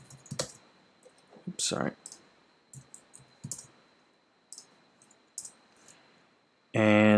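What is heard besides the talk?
typing on a computer keyboard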